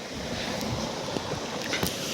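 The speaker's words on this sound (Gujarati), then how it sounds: "મોટર અત્યારે અત્યારે ચાલુ છે" An electric water pump motor runs on a farm field while irrigation water flows into a carrot plot, a steady broadband rushing and whooshing with no talk.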